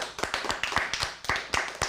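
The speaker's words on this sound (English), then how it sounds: "Let's give them a round of applause, guys" An audience of teens in an improv acting class claps for an improv troupe, a short run of steady, close, crisp handclaps with no talking.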